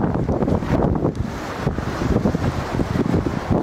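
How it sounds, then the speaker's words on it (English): Strong wind buffets the microphone outdoors in loud, continuous gusty rumbles that rise and dip without a break throughout, with no talking. "Pretty windy."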